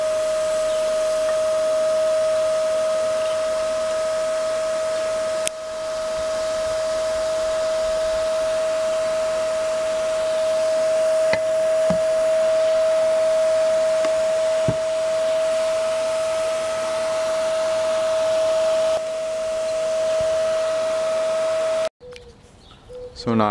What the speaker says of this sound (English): I'm going to filter it by vacuum filtration